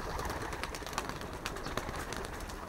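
Domestic pigeons cooing in a breeder's loft: soft, low murmuring coos sit continuously under steady broadband rustle and background noise, with no voices.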